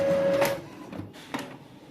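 An office printer/photocopier runs with a steady mechanical whir that cuts off midway, followed by a couple of brief, softer clicks and feed noises in the quiet that follows.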